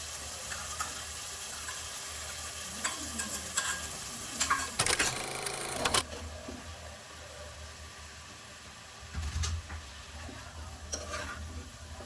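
Spices tempering in hot oil in a home kitchen pan, a steady sizzle with stirring scrapes and two louder bursts of crackling spatter partway through.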